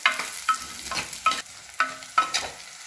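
Onions, garlic and green chilies sautéing in a pan for a village-style dry fish curry, with a soft continuous sizzle broken by four or five scraping stirs at a steady rhythm, close and moderately loud, no talking.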